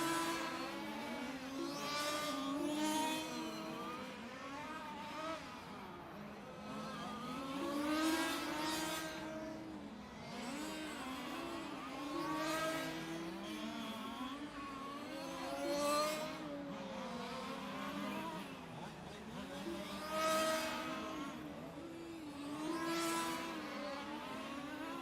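Several 1/5 large scale racing cars run at a championship meet before the race start, their engines rising and falling in repeated revving waves as the cars pass by at moderate distance.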